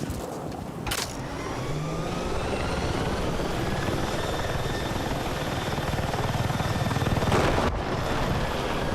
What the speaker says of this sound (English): My helicopter is sliding off the mountain.